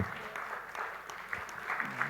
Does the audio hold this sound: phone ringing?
no